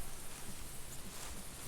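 Rain in the hunting video game theHunter Classic, a steady, dense hiss of falling drops on surfaces, constant and fairly loud with no voices over it.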